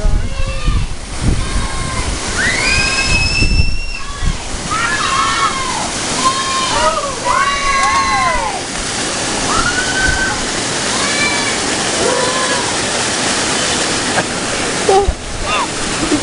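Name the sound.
waterfall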